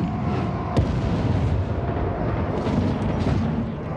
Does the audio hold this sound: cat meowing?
no